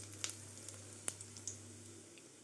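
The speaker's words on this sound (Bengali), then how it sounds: "কড়াইয়ে তেল গরম হয়ে গেছে, একটু জিরে আর শুকনো লঙ্কা দিয়ে দিলাম।" Cumin seeds and dried red chillies hit hot oil in a wok, giving a faint steady sizzle with a few sharp pops and crackles, heard alone at close range.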